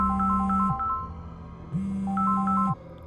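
A phone ringtone sounds late at night in a Tamil fantasy thriller short film: a repeating electronic melody plays in two bursts about a second long, separated by a pause. It is clear and fairly loud, with no talking.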